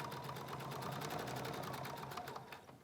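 Sewing machine stitching piping onto quilt binding, a rapid, even run of close mechanical needle clicks and motor hum, fairly soft, with no talking.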